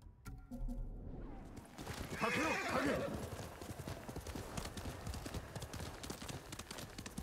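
A horse in the video game Ghost of Tsushima gallops with rapid, steady hoofbeats and lets out a clear neigh partway through, fairly close, with faint voice underneath.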